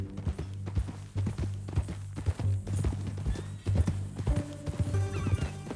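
A horse in the Western video game Red Dead Redemption clip-clops in a steady walking rhythm close by and gives a short neigh, with faint game ambience underneath and no talk.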